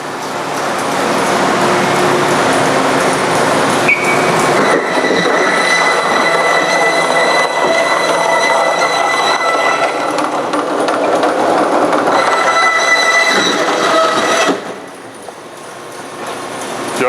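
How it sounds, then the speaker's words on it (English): A saw blade motor cuts through a plastic IBC tote bottle, a loud continuous whine and grinding roar with shifting high tones, ending in a sudden drop as the cut finishes. "So start the blade motor."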